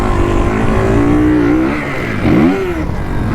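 A Kawasaki KX450F dirt bike cruises in third gear, its engine buzzing loud and close with a steady pitch that dips briefly and then rises again.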